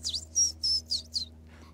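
Indigo bunting sings a short series of five bright, high whistled notes in a quick paired rhythm, clear and close against a quiet low hum.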